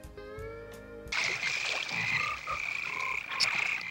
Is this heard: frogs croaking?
yes